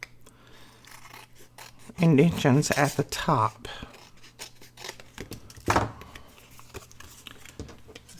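Scissors snipping through paper tag toppers in a crafting session, a run of soft crisp cuts close by that is partly masked by someone talking over it.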